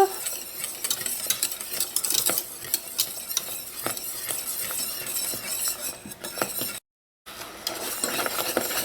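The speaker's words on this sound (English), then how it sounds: "make sure you keep stirring and stirring" Pastry cream thickening in a pot on the heat as a custard for doughnuts and eclairs is stirred continuously, a spoon or whisk scraping and clinking steadily against the pan, close and fairly loud, with a brief gap near the end.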